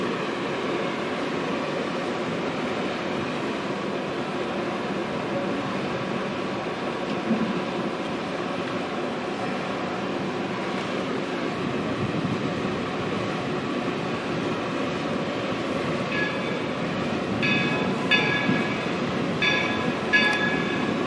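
A steam train pulls into a railway station, a loud, steady rumble of rolling wheels and wagons close by, with faint bell-like tones and metallic squeals near the end.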